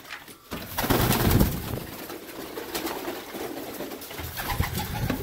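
Pigeons coo steadily in a loft housing a male white homing pigeon and a fantail, a close, continuous run of soft throaty calls with a louder swell near the start and no talking.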